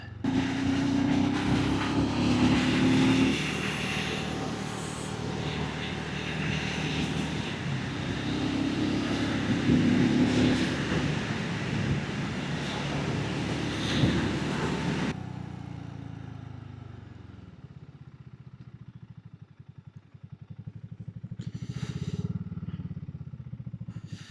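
A BSA Goldstar 650 motorcycle ridden past, with a steady engine drone and wind noise for about fifteen seconds, then an abrupt cut to quieter distant engine sound that swells again near the end.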